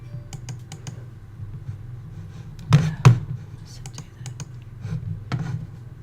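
Computer mouse clicks and keyboard taps while registering a user in assessment software, a scatter of sharp close clicks with a couple of louder knocks, a voice talking underneath.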